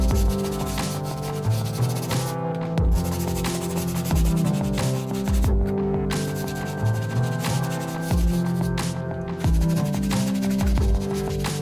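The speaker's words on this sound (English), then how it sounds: "you want to use the hard bristle brush on the soles and the midsoles of the shoe" A hard bristle brush scrubs the soles and midsoles of an Air Max shoe in steady back-and-forth strokes, a loud, continuous, close rasping with no talk.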